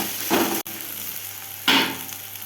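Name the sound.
onions frying in oil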